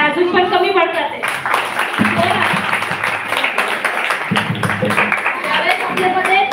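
Applause from an audience at an Independence Day performance, a dense, steady wash of many hands clapping for several seconds, loud and close.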